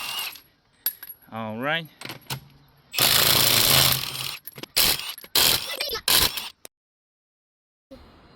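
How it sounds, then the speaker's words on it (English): A Milwaukee impact wrench with a 21mm socket removes the wheels of a 2014 Toyota Prius V, loud close rattling hammer bursts starting and stopping several times after a brief spoken remark. "for removing the wheels I will use a Milwaukee impact wrench and a 21mm socket"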